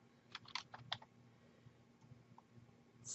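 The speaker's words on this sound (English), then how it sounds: "I'm going to type in keyword therapy." Quick bursts of clicking keystrokes on a computer keyboard as a search word is entered, faint and close, in a short cluster of taps followed by a few scattered clicks in a quiet room.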